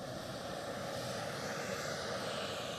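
A British Airways Embraer jet departs Edinburgh for London City, its engines giving a steady, even roar that holds at a constant level throughout, with no voices over it.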